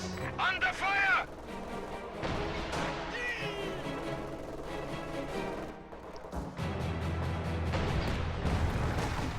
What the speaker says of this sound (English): Mortars going down, mines going down as well.